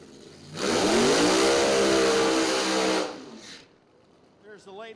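A drag racing car roars through a loud burnout for a few seconds at a drag strip in Grand Junction, Colorado, engine screaming steadily, then cuts off, leaving quieter background sound.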